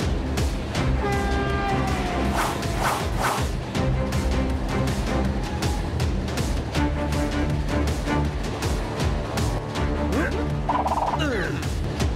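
Animated train keeps running loudly in a kids' cartoon, its steady rumble layered with wavering horn-like tones that rise and fall throughout.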